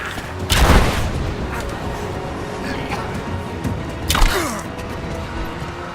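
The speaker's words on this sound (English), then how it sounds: "I'm under fire!" Heavy gunfire in the Rise of the Tomb Raider video game, two loud booming shots several seconds apart over a steady low ambient rumble.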